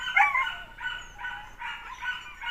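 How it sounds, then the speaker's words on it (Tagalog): Several dogs bark and yelp at feeding time in a noisy, overlapping chorus, steady throughout at moderate distance with no talking. "Yung mga aso maingay kasi oras din ang pagpapakain sa kanila ngayon."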